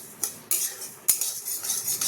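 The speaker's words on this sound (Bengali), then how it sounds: "এখানে দলিয়াটা হালকা করে ভাজবো।" Broken wheat is stirred and lightly fried in a pan, with a steady dry sizzle and three or four clear metal spoon scrapes and clinks against the pan, close and fairly loud.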